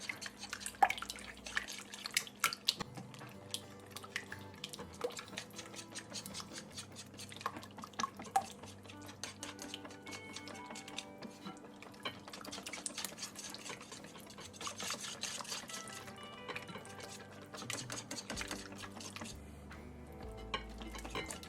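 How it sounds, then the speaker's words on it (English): Wet ingredients for Amish friendship bread are whisked in a bowl, giving quick irregular clinks and soft liquid sloshing close up, steady throughout with no talk. "we're going to give this a whisk, all of our wet."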